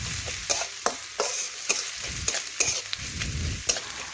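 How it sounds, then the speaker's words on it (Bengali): Chopped onions fry in a pan over a home clay stove, with a steady sizzle broken by repeated sharp scraping and clinking strokes of a spatula stirring them, close and clear. "এই দেখুন, পেঁয়াজ লাল লাল করে ভেজে নিচ্ছি।"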